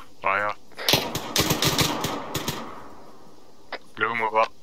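Rapid bursts of gunfire in a military shooter video game, loud and crackling for about three seconds, with short radio-style voices speaking before and after.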